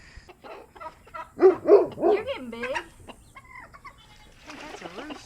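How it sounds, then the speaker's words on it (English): A rooster, kept with hens, gives a series of loud, close clucks and squawks in the middle, with quieter clucking before and after, while a person talks briefly. "That's a rooster."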